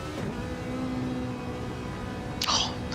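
A Ferrari race car roars in a racing video game at Interlagos, a steady droning engine note that holds throughout, with a brief sharper whine or burst near the end.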